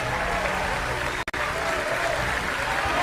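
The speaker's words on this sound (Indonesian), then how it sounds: "Beri tepuk tangan yang mulia untuk Bapak Prabowo Subianto" Crowd applause for presidential candidate Prabowo Subianto at a PSI evening event. It is a steady wash of clapping of moderate loudness, with a short gap in the middle.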